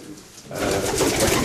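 Racing pigeons coo steadily up close at a pigeon loft, a low throaty burbling that swells after a brief quieter start and carries on continuously.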